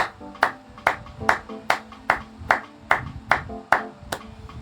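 A church congregation claps in steady unison, about eleven sharp, even beats with faint voices underneath.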